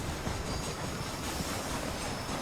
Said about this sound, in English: Is the train gonna stop here?